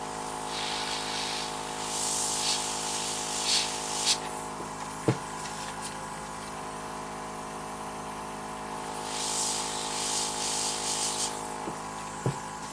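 A Dinair airbrush sprays makeup onto the eye for a winged eyeliner, heard as two soft, steady hissing bursts separated by quiet room tone, with no talking.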